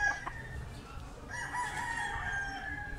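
A rooster gives a single drawn-out crow, moderately loud and somewhat distant, after a few short calls.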